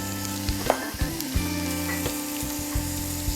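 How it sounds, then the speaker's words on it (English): Onion frying in melted butter, a bright close sizzle with a steady hum underneath and a few sharp stirring knocks against the pan. "Our butter's starting to melt. We're going to put some onion in."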